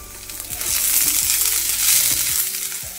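Potatoes, carrots and capsicum fry in oil in a pan with a loud, steady sizzle, punctuated by close clinks and scrapes of a spatula against the metal.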